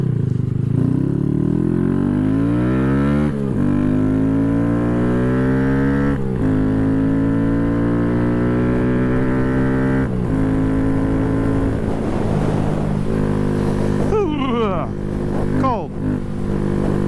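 A Honda Grom with a high-compression piston, cam and tune rides on a cold road, its engine loud and close as it climbs through gears in repeated rising revs, with wind noise and a voice talking over it.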